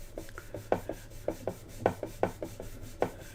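Wet and dry sandpaper taped on with masking tape rubs the base of a 1946 Kriesler 11-4 beehive radio, making close, rhythmic rasping strokes about three per second with no talk.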